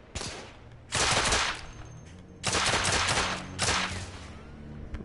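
Bursts of automatic weapon fire in The Order 1886, three long rattling volleys separated by brief pauses, loud and close, with no voices over them.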